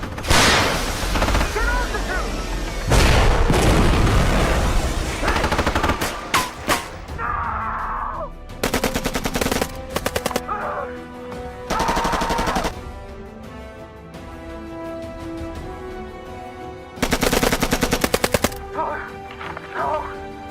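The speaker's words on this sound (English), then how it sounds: "Riggs, give us some cover fire." Bursts of automatic gunfire laying down cover fire in a sci-fi action battle, loud and close, firing in several separate volleys with pauses between, alongside shouted voices and scattered impacts.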